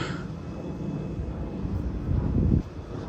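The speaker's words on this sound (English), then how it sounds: "Fucking airplane." Airplane flying overhead near running equipment, heard as a steady low broadband rumble that swells louder toward the end before easing off.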